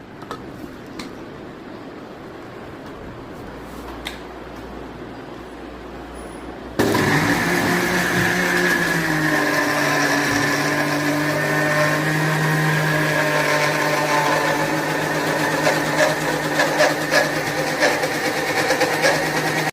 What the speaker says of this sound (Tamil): இப்போ அதை மிக்ஸில் போட்டு அரைச்சிக்கலாம்.